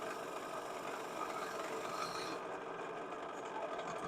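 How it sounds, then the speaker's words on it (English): Ball gouge held like a skew, tapering the outside of a turned wood piece on a lathe, a steady close rasping shear over the spinning wood's hum, easing off about halfway through. "I'm going to taper the outside shape using the ball gouge as a skew."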